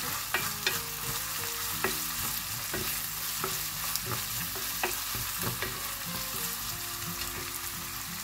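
Serrano ham cut into thin strips being stirred in a frying pan, a steady sizzle with repeated scrapes and knocks of the utensil against the pan, close and continuous with no talking.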